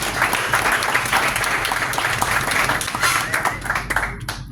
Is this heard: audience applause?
yes